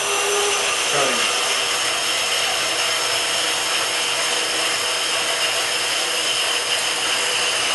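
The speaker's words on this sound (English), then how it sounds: "I hold the blade up off the material, start it, and gently set it back down. And let the weight of the machine do the cutting." A power saw runs with a steady, loud broadband whine as its blade is lowered onto the material in a shop setting, with the machine's own weight doing the cutting; the grinding continues evenly throughout, with no talk.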